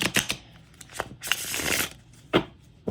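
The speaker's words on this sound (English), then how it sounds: "it's so easy to shuffle this deck" A flexible tarot card deck being shuffled by hand, several quick close riffles and slaps of cardstock with brief pauses between.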